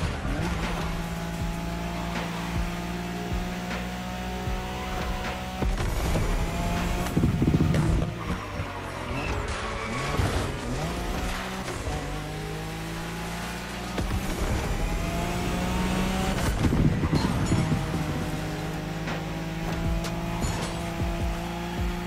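Nissan Skyline racing in The Crew Motorfest on the Wangan expressway in Tokyo, engine roaring and revving steadily with shifting pitch, tires squealing in drift skids, loud and continuous throughout.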